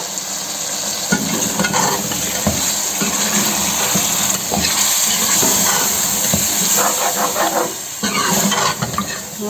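A spoon scrapes and stirs steadily through yogurt in a sizzling pan of chicken qorma gravy. The frying hiss is close and continuous, and the irregular clinks and scrapes of the spoon run through it for the whole stretch.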